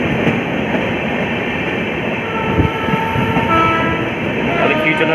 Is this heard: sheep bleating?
no